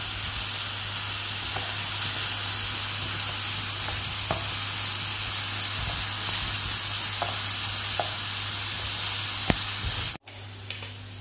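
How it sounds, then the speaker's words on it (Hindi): Fried potatoes sizzle steadily in hot oil while being stirred gently, a continuous close hiss with occasional soft scrapes; it cuts off abruptly near the end, leaving a brief quiet tail. "चलो अब चलाओ, लेकिन बहुत आराम से, आपके ऊपर कोई ऑयल वगैरह ना आ जाए"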